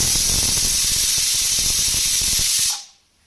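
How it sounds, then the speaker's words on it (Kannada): Cumin and pepper sizzle in hot oil with a loud, steady frying hiss that cuts off abruptly near the end. "ಜೀರಿಗೆ ಮತ್ತೆ ಮೆಣಸನ್ನ ಹಾಕೊಂಡಿದ್ದೀನಿ ಇಷ್ಟನ್ನ ಹಾಕಿ ಎಣ್ಣೆಯಲ್ಲಿ ಸ್ವಲ್ಪ ಫ್ರೈ ಮಾಡ್ಕೊಬೇಕು"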